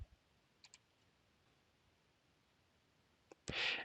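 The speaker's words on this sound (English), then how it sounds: "So now, if I were to click on this link" Mouse clicks on a hyperlink: a couple of faint quick clicks early, then a pair of sharper close clicks followed by a brief hiss near the end, in an otherwise quiet room.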